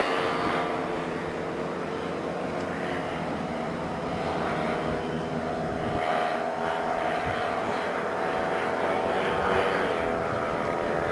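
Several model airplanes flying together in formation give a steady, fairly distant propeller and engine drone that swells gently and never stops, with no clear talk over it.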